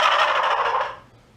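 A gobbler turkey hunting call produces one loud, rattling gobble that lasts about a second and then fades out, heard alone and close.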